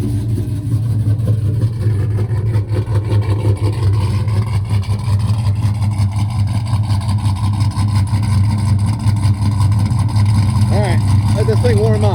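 A 2019 Chevrolet Silverado truck fitted with a Flowmaster muffler idles while warming up, a loud, steady low rumble that holds throughout with slight fluctuations.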